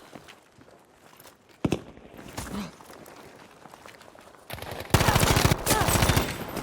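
Gunfire in a Battlefield V 5v5 squad conquest match: scattered single shots and footsteps give way to a loud, close, sustained automatic burst toward the end.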